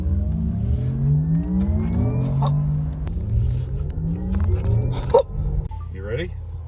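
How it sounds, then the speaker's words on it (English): Porsche Taycan Turbo electric car driving, its electric motor giving a rising, whining hum with a low rumble that sweeps upward, with people talking over it and a few sharp knocks near the end. "That is actually real electric motor sound."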